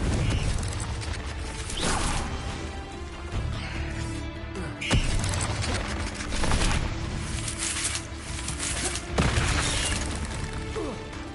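Spell effects from the Hogwarts Legacy video game, a Depulso force blast and a fiery Confringo, burst as a series of loud booming impacts and crashes over dense, busy game sound throughout.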